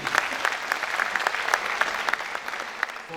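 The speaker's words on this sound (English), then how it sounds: "So a big round of applause for the ICSI." An audience at a company secretaries' convocation breaks into sustained applause, a dense, even patter of many hands clapping at moderate loudness throughout.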